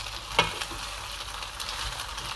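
Pasta being stirred in a pan with ghee and a little oil, a soft steady sizzle with one sharp utensil scrape near the start, close and moderately quiet, no talking.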